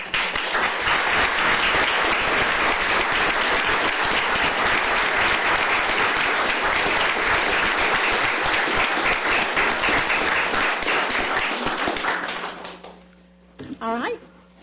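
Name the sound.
audience applause for parents and teachers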